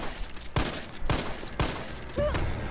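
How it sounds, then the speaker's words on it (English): Gunfire from the video game Resident Evil 3, four sharp, loud shots spaced roughly half a second apart, followed by a brief whining sound effect. "Okay, that's a lot of bullets."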